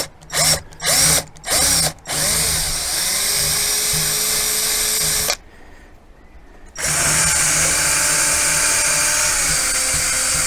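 A power drill countersinks a screw hole in a wooden wardrobe shelf for a baby room: a quick series of short whirring bursts, then a long steady whine that stops briefly and starts up again, close and loud.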